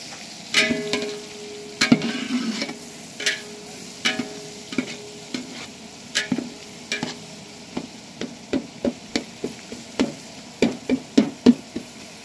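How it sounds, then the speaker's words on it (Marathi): Onions fry in a pot over a wood-fired stove for chicken dum biryani, a steady close sizzle broken by a long series of sharp spoon knocks and scrapes against the pot, growing more frequent toward the end. "कांदा आपण शिजवून घेणार आहोत। थोडा तडका लाल होईपर्यंत शिजवणार आहोत"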